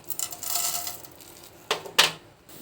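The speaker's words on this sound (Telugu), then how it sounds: "తర్వాత పోపు గింజలు వేసుకోవాలి" Tempering seeds drop into hot oil in a pan, producing a brief hissing sizzle, then two sharp spluttering bursts close by, with no talking.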